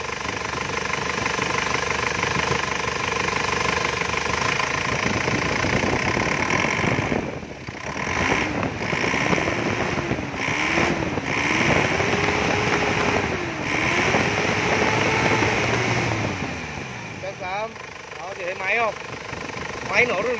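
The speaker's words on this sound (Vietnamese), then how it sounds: "Máy nổ rất là chất luôn, xe đang hoạt động." The 2005 Isuzu Hi-Lander diesel engine runs with a loud, rough, clattering idle that continues throughout while someone talks over it. A rising and falling whistle-like tone appears in the middle section.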